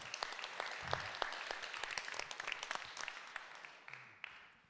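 Audience applause at a ceremony honouring an archbishop, sustained clapping from a large hall with distinct individual claps standing out, gradually tapering off.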